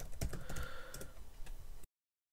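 Quick, steady clatter of keys on a computer keyboard as a folder name is entered, close and clear with no voice, stopping abruptly into silence.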